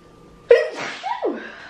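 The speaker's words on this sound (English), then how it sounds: "Oh, I gotta sneeze." A single sudden sneeze bursts out after a quiet moment, followed by breathy, half-laughing exhalations, close and fairly loud.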